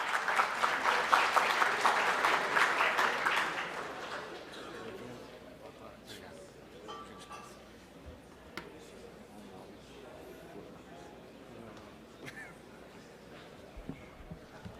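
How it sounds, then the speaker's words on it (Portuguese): Audience applause at a corporate annual investor meeting, a loud burst of many hands clapping for about four seconds that then fades into quiet room sound with faint speech. "Uma salva de palmas, por gentileza."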